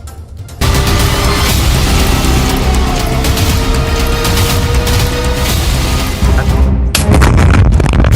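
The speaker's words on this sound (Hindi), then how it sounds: "पहला धमाका" A heavy, booming explosion with a rumbling low-end roar that sustains for several seconds, followed by a sharper burst near the end.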